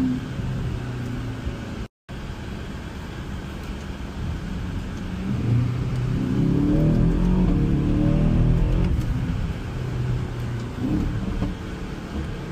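Deep, rumbling exhaust from an Aston Martin DBX707 engine with irregular burbles and pops, rising in intensity midway, heard from close by with a steady low roar underneath.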